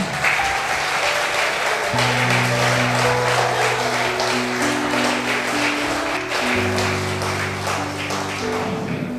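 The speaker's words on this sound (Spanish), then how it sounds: "Denle un fuerte aplauso al Señor" A church congregation gives the Lord a loud, sustained round of applause during a sermon, with dense clapping that fills the room over a steady backing of held organ or keyboard chords.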